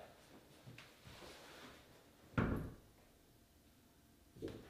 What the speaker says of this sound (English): So I'm going to close the door and check that from the other side.